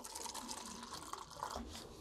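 Vinegar is poured onto a garden soil sample for a pH test, giving a soft, faint trickle and light liquid splashing over a quiet background.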